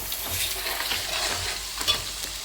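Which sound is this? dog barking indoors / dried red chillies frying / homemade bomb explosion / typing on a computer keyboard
dried red chillies frying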